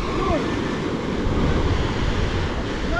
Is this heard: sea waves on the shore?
yes